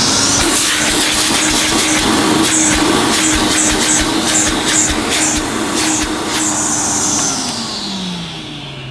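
A 1980s Hoover S3126 Sensotronic System 1 vacuum cleaner runs with a loud, steady motor whine and airy rush, close by, with a few rhythmic bumps and the pitch sliding down as it powers off near the end.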